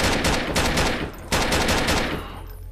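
Repeated gunfire in the horror video game Alone in the Grey, two quick bursts of rapid shots, loud and close, the second burst cutting off into a fading echo.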